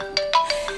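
A mobile phone ringtone for an incoming call plays a quick, bright melodic phrase of four short chiming notes, close and clear, with no talking over it.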